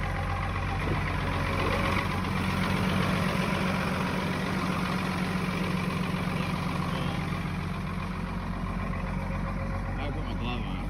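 A 1999 Dodge pickup with a Cummins diesel engine idles high after a subzero cold start, a steady close rumble with clattery knock under a man's speech.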